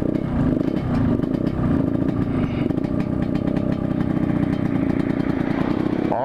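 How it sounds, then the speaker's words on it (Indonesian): A loud, close old motorcycle engine runs steadily with a rough, clattering idle and a constant low rumble throughout. "Motor jadul ya, motor yang ngetren pada zamannya."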